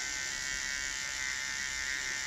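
A JRL 1040 hair trimmer runs with a steady, even electric buzz, close to the microphone and alone, holding a constant hum without any change in pitch.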